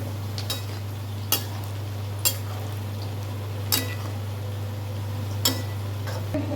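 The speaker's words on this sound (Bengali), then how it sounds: "এবার ছোলাটা কষতে দিতে হবে।" Kabuli chickpeas for ghugni are stirred and sautéed in a pan, with a handful of sharp, sparse clicks of the spoon striking the pan over a steady low electrical hum.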